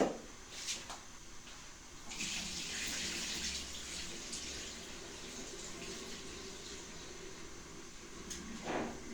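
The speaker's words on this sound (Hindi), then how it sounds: "ये देखें पानी उबलना शुरू हो गया।" Water bubbles and hisses quietly in a pot, with soft irregular surges of fizzing and a few faint clicks.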